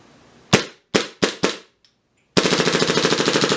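A suppressed DevGru MP7 replica airsoft gun fires four sharp single shots, pauses, then lets off a fast continuous full-auto burst, loud and close.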